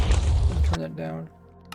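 A loud, low boom of TNT exploding in Minecraft fills the first moment and then cuts off sharply. Quieter game sounds and faint voices trail after it.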